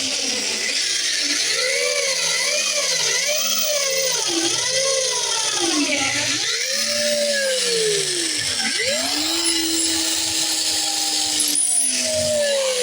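A power drill whines steadily, its pitch rising and falling in rapid wavering cycles as the bit bites into a knife handle, loud and close.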